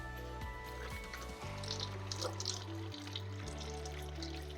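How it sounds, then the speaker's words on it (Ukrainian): Water runs from an Ecosoft Pure Balance reverse osmosis filter after its cartridges are replaced, darkish and carrying air, a steady faint trickle and splash under a low mechanical hum with no speech. "Ось така вода в нас тече з чорнуватим відтінком та виходить повітря."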